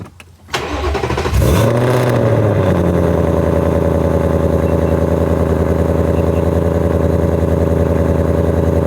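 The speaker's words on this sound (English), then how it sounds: "let's go ahead and get a cold start" A Ford Mustang Cobra engine is cold-started: a brief starter crank catches into a loud, rising roar, then settles into a steady, rumbling high idle held close up.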